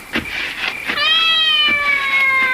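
A cat meows in one long, drawn-out call that slowly falls in pitch, preceded by a few shorter, softer mews, close by and clear with no talk over it.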